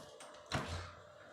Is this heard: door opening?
yes